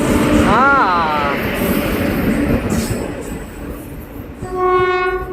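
A train pulls into a station in Gujarat with a continuous heavy rumble, a wavering horn blast near the start and a longer steady horn toward the end, loud and close with people talking on the platform.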